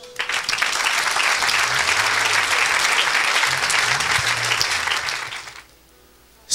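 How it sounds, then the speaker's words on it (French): A church congregation applauding and acclaiming the Lord, loud continuous clapping from a large crowd that holds steady for several seconds, then drops away abruptly into quiet. "Quelqu'un acclame le Seigneur."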